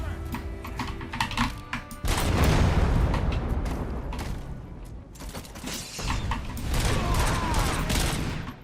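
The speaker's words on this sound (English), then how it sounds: "So there's like lots of explosions that could hopefully help me." Gunfire and explosions from the RoboCop: Rogue City video game come in dense rapid bursts, loud and close, with a brief pause between heavy volleys.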